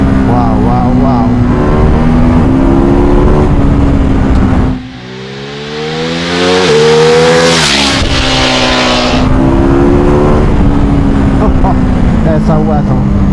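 A 2021 Ducati Monster motorcycle engine revs and accelerates through gear changes on a road ride, the pitch rising and dropping through each gear, loud and close over wind, with a rider talking over it.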